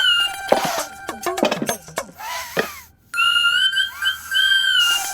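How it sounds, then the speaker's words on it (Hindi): A pressure cooker whistle in a home kitchen, a sustained high tonal hiss that starts abruptly and carries on steadily, following a stretch of clinks, a cough and scattered noises. "ये तो कुकर की सीटी है।"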